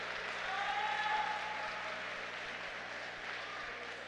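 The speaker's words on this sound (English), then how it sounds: "let's give them a round of applause" Steady applause from an audience fills the whole stretch, a dense wash of clapping that holds at an even level without pause.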